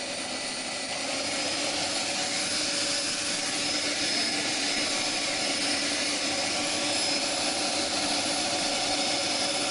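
A Philips SpeedPro Max hair dryer runs steadily on its turbo setting at high power, a loud continuous roaring whoosh that sounds much like a jet engine, with no other sounds.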